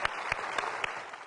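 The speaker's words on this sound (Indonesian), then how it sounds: "Nah, kasih tepuk tangan dong." Short burst of audience applause in a television talk-show studio, a few sharp claps standing out over a rapid, moderately loud patter that continues for just over a second.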